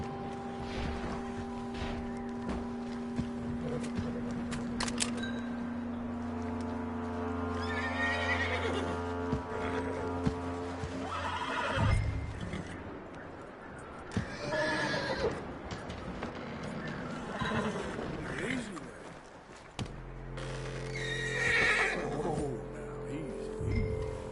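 In Red Dead Redemption 2, a horse whinnies and snorts as hooves clip-clop along, with a low engine-like drone and scattered rustles filling the background.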